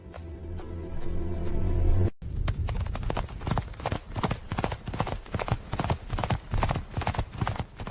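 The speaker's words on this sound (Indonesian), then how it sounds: "Siapkan kuda, Laksmi." Horse hooves clip-clop in a steady, close rhythm, a brief pause early on before the regular trotting beats resume and continue.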